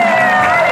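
A television comedy show's studio audience bursting into a brief, loud wash of applause and cheering, dense and close.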